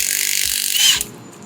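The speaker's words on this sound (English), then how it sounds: "Shear off the first bolt." A bolt head shears off a Sicame MecaSplice mechanical tension repair splice during a yard install, giving a sustained ratcheting, grinding tool sound that swells to a brief loud snap near the end, then fades.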